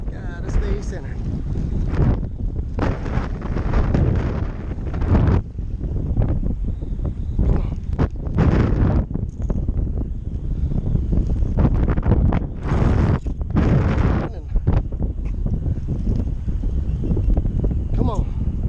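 Strong wind buffets the microphone on Braunig Lake during kayak fishing, a continuous rough roar with gusty surges that runs throughout, loud and close, with brief voice fragments under it.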